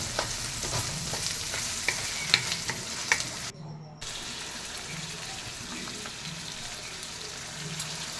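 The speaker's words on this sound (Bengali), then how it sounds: "বিনস দিয়ে দিচ্ছি, আবার নাড়াচাড়া।" Beans being stir-fried in a pan, with a continuous loud sizzle and a spatula scraping and knocking in irregular strokes, close up, with a brief drop in the noise midway.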